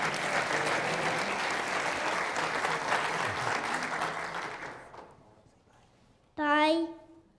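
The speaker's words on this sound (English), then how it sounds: "We'll give him a big round of applause." Audience gives a child a big round of applause, sustained dense clapping that fades out after about five seconds, followed by a brief loud voice.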